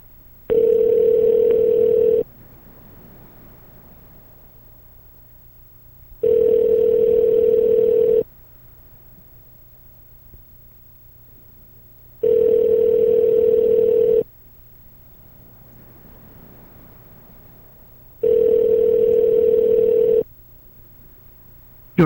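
Telephone ringback tone on an unanswered outgoing call, four steady two-second rings separated by roughly four-second gaps, clear and fairly loud over a faint line hum, with no talk.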